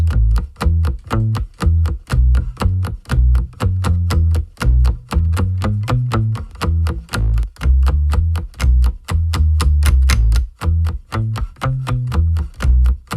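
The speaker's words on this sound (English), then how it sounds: "Yep, this is the bass." A dry, unprocessed bass line plays alone, steady rhythmic plucked notes repeating in a loop, deep and close with a thin top end.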